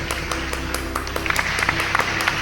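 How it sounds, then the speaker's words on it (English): Applause from an audience for parents, grandparents and family at a school presentation, steady patter of many hands with a few sharper individual claps standing out, moderately loud and continuous throughout. "clap loudly for all the parents and grandparents and family members watching this presentation"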